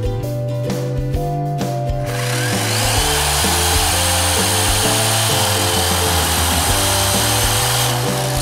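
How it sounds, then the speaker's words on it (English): A power drill bores holes for wall plugs, starting with a loud whining motor that steps through pitches, then biting into the material with a harsh grinding rasp that holds steady to the end. "Be sure you have a slightly thinner drill bit."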